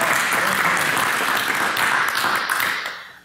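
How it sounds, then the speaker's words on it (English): A congregation at a Messianic teaching session gives a short burst of loud, close applause that holds steady and then fades away in the final half second, with no talking over it. "Now I'm getting some applause."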